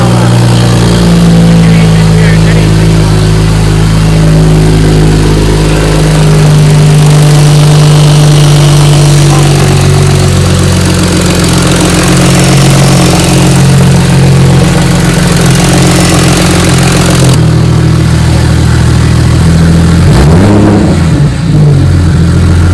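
A BMW 335xi with an N54 engine fitted with a big single turbo runs loud and close, its steady idle rising into revs and dropping off near the end.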